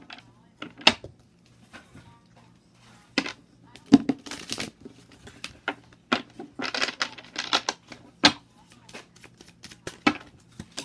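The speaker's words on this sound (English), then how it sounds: "Let's get one more shuffle" Tarot cards being shuffled by hand in repeated short riffling bursts with soft slaps between them, close and fairly quiet over a low steady hum, with no talking.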